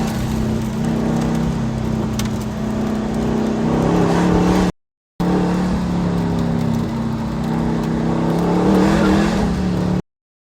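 A Factory Five 818 race car is pushed hard through a sweeping track corner, its engine holding a loud, sustained drone with slight pitch swells, broken by one brief gap before the roar resumes.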